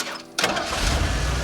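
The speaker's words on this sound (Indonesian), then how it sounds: "secara mengejutkan, mobil Mallory berhasil menyala kembali" A car engine cranks and catches, a quiet moment broken by a sudden burst as the motor fires, then settles into a loud, steady running rumble.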